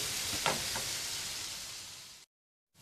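Chopped onion, ginger and garlic fry in hot oil for a Kerala-style squid thoran, giving a steady, hissing sizzle with a couple of soft knocks, before the sound cuts out abruptly.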